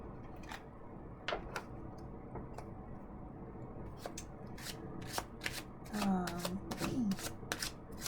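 Tarot cards shuffled close up, crisp repeated riffles and taps in an uneven rhythm with a brief flutter of cards, over a faint low background and with no clear talking.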